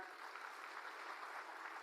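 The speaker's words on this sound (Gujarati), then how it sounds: "એકવાર તાળીઓ થઈ જાય" Crowd applause at an Aam Aadmi Party political rally in Gujarat, a dense, even patter of many hands clapping continuously, heard faint and distant throughout with no clear voices on top.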